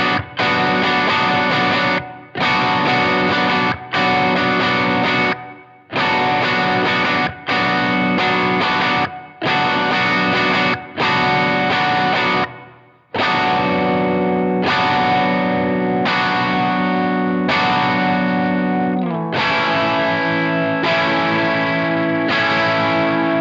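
Electric guitar played through a pedalboard with effects, switching a headroom setting back and forth: loud distorted, chorused chords in repeated short phrases with brief gaps, then a longer sustained passage, no talking.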